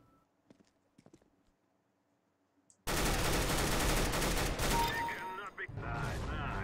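Sustained automatic gunfire from CS:GO bursts in after a few quiet seconds of faint clicks and footsteps, loud and dense, with a brief dip near the end before firing resumes.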